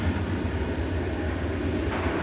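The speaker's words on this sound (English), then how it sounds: "Direct Flight 1890 is going to Las Vegas. So good luck to all aboard. This is an Airbus A321." Airbus A321 jet airliner, Direct Flight 1890 to Las Vegas at Dallas/Fort Worth Airport, a constant broad rumbling engine roar, fairly loud and unbroken.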